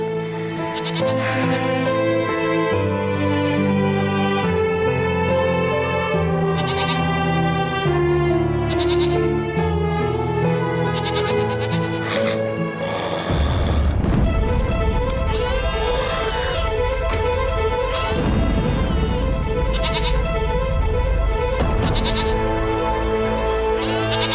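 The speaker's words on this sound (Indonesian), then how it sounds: "Kambing saja bisa punya banyak anak." Goats bleat repeatedly over a steady, loud music bed, their wavering calls rising above dense instrumental sound throughout.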